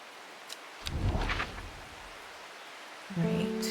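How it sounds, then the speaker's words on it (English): Rain hisses steadily in Strange Horticulture, and a short rumble of thunder swells and fades near the start before low musical tones enter at the end. "My gosh, this rain is so relaxing."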